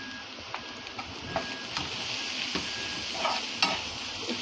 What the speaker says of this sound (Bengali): একটু তেলের মধ্যে এটা আমি ভেজে নেব।